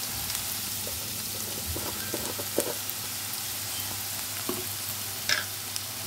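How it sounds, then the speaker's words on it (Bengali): Whole cumin seeds and onion frying together in oil for a restaurant-style goat dopiaza, a steady soft sizzle with a few faint stirring clinks and scrapes, no talking. "সব একসঙ্গে ভাজা হোক।"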